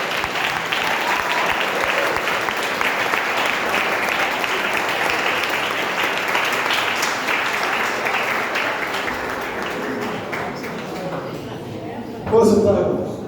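Sustained applause from a large congregation at a church youth congress, a dense steady clatter of many hands filling the hall for about twelve seconds before tapering off, with a brief louder burst near the end.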